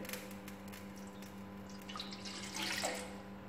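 Water poured into a pot for making pineapple-syrup taro pudding, a quiet trickling and splashing over a steady background hum, growing a little louder toward the end.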